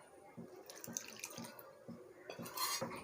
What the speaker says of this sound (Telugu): ఇంకొంచెం వాటర్ వేసుకోవాలి.